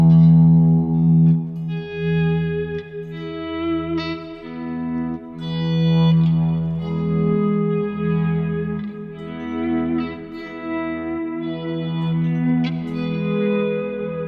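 Guitar played into long, looping delays in the Frippertronics style, starting on E, with layered sustained notes overlapping into a thick, echoing ambient wash that swells and drifts without pause.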